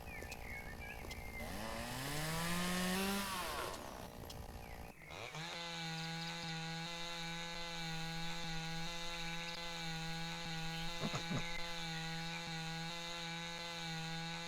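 Chainsaw cutting wood in the game Lumberjack Dynasty, a revving buzz rising and falling as it bites, then settling into a steady, droning engine hum.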